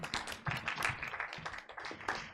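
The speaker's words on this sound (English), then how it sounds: "Let's give an applause." A small group at a board of education meeting claps in a brief, uneven round of applause, close and moderately loud, lasting a couple of seconds.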